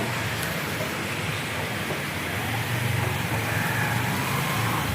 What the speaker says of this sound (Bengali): বৃষ্টি হচ্ছে দেখছো।